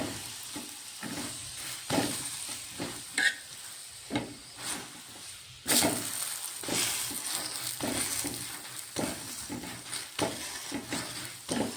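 Cauliflower paratha frying in ghee in a pan, with steady sizzling and repeated scraping and stirring taps throughout, fairly close and moderately loud.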